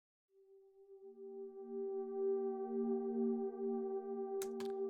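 A sustained synthesizer pad swells in from silence, holding steady harmonic tones that grow louder, with a couple of brief clicks near the end.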